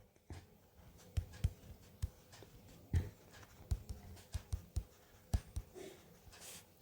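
Chalk or marker strokes on a board during a physics class on thermodynamics, a scatter of short sharp taps and scratches in irregular bursts, close and fairly quiet with no talking.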